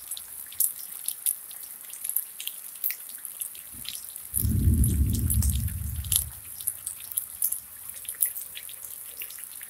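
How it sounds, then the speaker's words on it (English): Rain during a thunderstorm patters as scattered drips and taps on a nearby surface, with a low rumbling swell rising for a couple of seconds mid-way before fading back to sparse drops. "We're getting some rain now."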